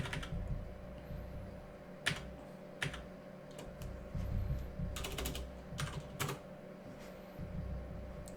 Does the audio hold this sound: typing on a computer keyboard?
yes